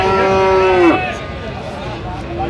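A Sahiwal cow lets out a single loud, drawn-out moo that ends in a falling slide, followed by fainter lowing and murmuring at a cattle market.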